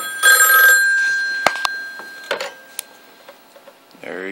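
A rotary telephone connected to a Panasonic 308 PBX gives a brief loud bell ring at the start, followed by clicks and handling knocks as it is answered, with a voice at the end.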